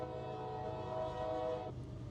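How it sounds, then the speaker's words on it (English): A passing train rumbles loudly and steadily with a sustained horn-like tone over it, cutting off near the end; no talking is heard. "Train's a little loud, so I'm just going to yell over it."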